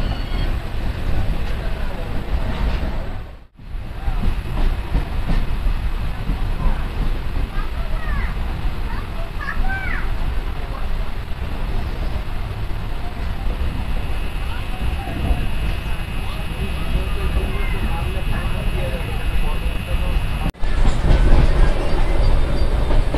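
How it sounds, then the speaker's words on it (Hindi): Gitanjali Express passenger train crossing on a loop line, a steady loud rumble of rolling carriages throughout with faint rhythmic rattling; no talk. "लूप लाइन से हम लोगों को क्रॉस करवाया जा रहा है, क्योंकि मेन लाइन पे फ्रेट ट्रेन खड़ा करके रखा हुआ है"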